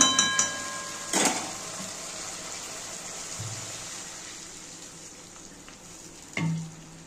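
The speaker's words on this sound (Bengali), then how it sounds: "কষানো হয়ে গেছে, এবার আমি একটু জল দেব।" Water is added to a mustard-poppy spice paste frying for a pabda fish curry, bringing a short splash and hiss at the start. A soft, steady sizzle follows, with a few faint clinks. No one speaks.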